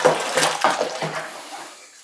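Liquid sloshing and swirling in a bucket as cherry wine must made from Nanking cherries is stirred, close and moderately loud, with short splashy strokes fading toward the end.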